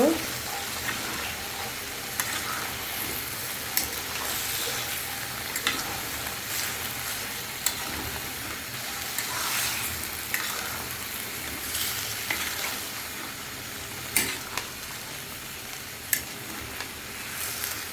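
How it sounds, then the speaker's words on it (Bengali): Chopped vegetables, ridge gourd and potato with pabda fish sizzle steadily in a pan, stirred now and then so the spoon scrapes and clinks sharply over the continuous loud frying hiss. "ওই যে তরকারিগুলো আমি আবারও নেড়ে দেব"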